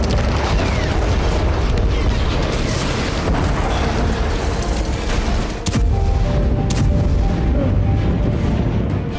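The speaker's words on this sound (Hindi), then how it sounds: "जब सीरिया के होम्स में इजराइल ने मिसाइल स्ट्राइक कर डाली" An Israeli missile strike in Homs, Syria, heard as a loud, continuous roar of blasts and rumbling, with a sharp dip and crack midway; heavy low rumble persists throughout and faint voices may be mixed in.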